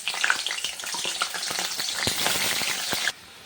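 Potato pieces frying in hot oil in a home kitchen, a steady dense sizzle with scattered pops and crackles close up, running continuously before cutting off abruptly near the end.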